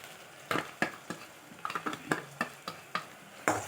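Ground green tomato paste being stirred into cauliflower and potato masala frying in a pan, with a series of short scraping spoon strokes against the pan over a soft sizzle, close and fairly quiet.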